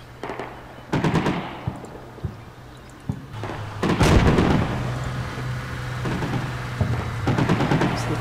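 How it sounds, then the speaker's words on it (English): Tanks lay suppressing fire in the Combat Mission Shock Force video game, with bursts of machine-gun fire and booming shots in irregular clusters, some close and loud, others more distant, over a low hum. "So the tanks are just laying suppressing fire on them."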